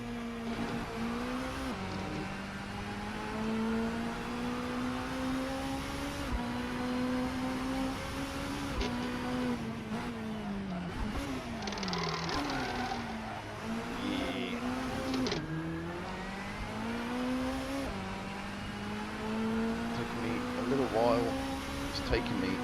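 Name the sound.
touring car engine in a racing video game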